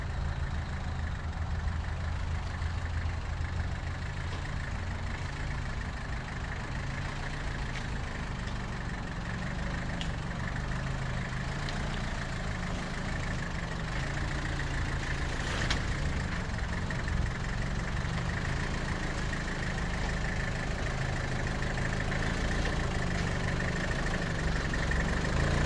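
A first-generation Toyota 4Runner with 4.7 reduction gears in the transfer case crawls down a steep slope in first gear low range, its engine holding a steady, low, rumbling drone for the whole descent with no braking.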